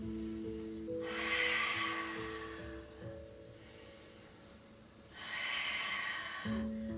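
Deep Pilates breaths, costal inhales and strong exhales, come as two long, airy breaths separated by a quiet pause, close and clear over a soft, steady low tone.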